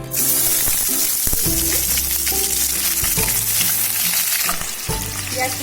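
Onions sizzle and fry in about half a cup of hot oil in a wok, making a steady, loud crackling hiss with scraping stirs throughout.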